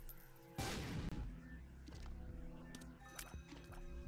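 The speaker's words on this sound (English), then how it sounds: "I'm going to use a bomb." A bomb goes off in The Binding of Isaac, a sudden loud explosive burst followed by a short rumbling decay, then lighter game effects and pickup sounds chime in the background.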